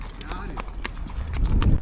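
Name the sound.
racing horses clip-clopping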